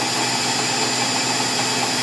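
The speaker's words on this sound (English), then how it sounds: "It's a carbide drill, so it should be able to cut without coolant." A carbide drill on a Tormach PCNC mill cuts without coolant, producing a loud, steady, broadband machining whir that holds constant without a break.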